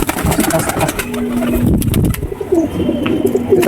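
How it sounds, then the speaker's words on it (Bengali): English Tumbler pigeon hen cooing in a steady, close series, with low voices and other bird noise in the background. "এটা হচ্ছে ইংলিশ টাম্পেটার মাদি।"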